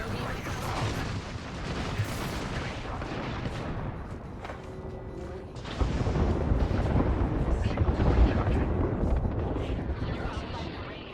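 An airstrike in Apex Legends pounds with dense, continuous rumbling explosions and booms, loud and sustained throughout, swelling heavier in the second half amid other game noise.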